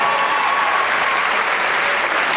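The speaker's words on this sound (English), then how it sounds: "Can we give them a round of applause?" A large audience at a university opening convocation breaks into dense, continuous applause, a steady roar of many hands filling the hall at even volume.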